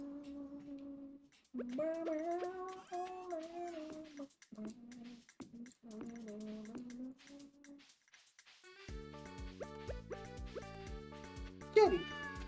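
A cartoonish pet cat meows repeatedly in the farming game Stardew Valley, its mewing calls rising and falling clearly over several seconds, then giving way to bright game music near the end.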